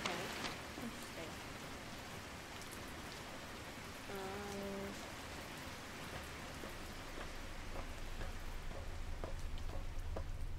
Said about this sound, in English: oh, I brought the rain in